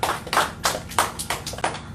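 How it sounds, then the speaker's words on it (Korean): Scattered clapping from a small lecture audience at an urban regeneration academy talk, a few sparse uneven bursts of hands rather than a full ovation, close and brief. "박수 한번 주세요."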